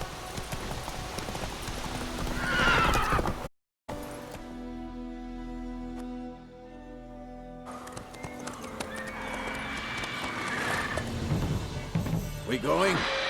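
Hooves clip-clop rhythmically as the horse Roach gallops in The Witcher 3, a brief gap breaking the steady beat, with a whinny and character voices heard over the hoofbeats.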